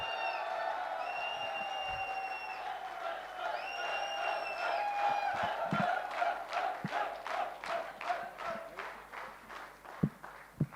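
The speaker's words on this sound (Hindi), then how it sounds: "तालियां एक बार दमदार।" An indoor audience at a direct-selling seminar erupts in loud cheering and shouting, which then turns into a run of rhythmic, rising claps with a few sharp louder hits near the end.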